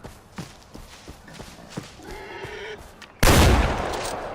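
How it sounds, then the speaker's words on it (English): A gun in the video game Far Cry 4 fires both slugs at once, one sudden loud blast that follows quieter footstep-like taps and lingers briefly as it fades. "I didn't expect it to fire both slugs"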